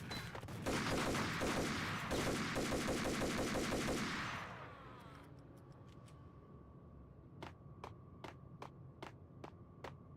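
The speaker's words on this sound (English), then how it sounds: "That's a shotgun. It's a full auto shotgun." Full-auto shotgun fire in the video game Max Payne 2, a dense, loud rattling burst of rapid shots for about four seconds, followed by scattered single sharp clicks and ticks against a quieter hum.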